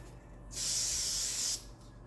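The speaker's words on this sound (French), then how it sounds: "Puis après, vous pouvez aller lisser avec le spray." Hair spray is sprayed to smooth hair in a single close, steady hiss lasting about a second, with quiet room tone before and after.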